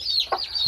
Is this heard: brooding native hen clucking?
yes